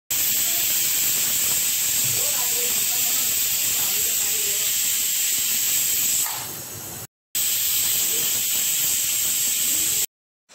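A pressure cooker boiling potatoes whistles with a steady, loud hiss of escaping steam that cuts off briefly near the end, then resumes.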